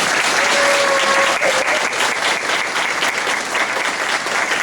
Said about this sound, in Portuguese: Eu acho que eles merecem uma salva de palmas,